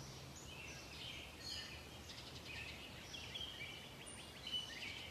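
Faint birdsong drifts in over a soft hiss of outdoor ambience, with scattered chirps and short whistled phrases at a distance.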